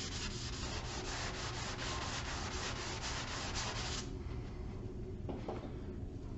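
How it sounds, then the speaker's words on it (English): Steady, gritty back-and-forth rubbing of a sanding block on a table saw's surface, continuous and close, easing off near the end with a couple of light knocks. "that sanding block really does a great job of getting rid of that"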